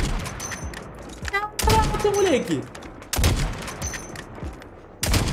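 Sniper rifle gunshots in Call of Duty Mobile crack out as three loud, separate blasts spaced about a second and a half apart, each with a short ringing tail, while someone talks excitedly between them.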